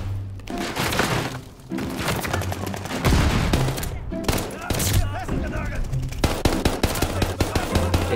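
Rapid automatic gunfire from the Call of Duty Vanguard video game, loud and dense bursts with impacts and breaking sounds filling the whole stretch, while a voice talks intermittently underneath.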